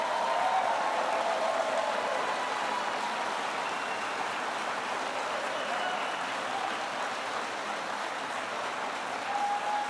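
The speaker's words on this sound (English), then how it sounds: "Let's give them a round of applause." An audience at a Vice President J.D. Vance tax-cut event applauds continuously, a dense, even wash of many hands clapping at steady volume with faint cheers mixed in.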